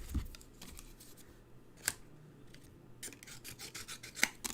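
Scissors cutting a section of paper for a Z fold stepper card, soft rasping snips and rustles in quick clusters, close but quiet, with a couple of light taps and no talk.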